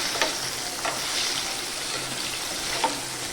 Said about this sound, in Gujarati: તેની અંદર બાફેલા પરવરને એડ કરી દેવાના અને હાઈ ગેસની ફ્લેમ ઉપર તેને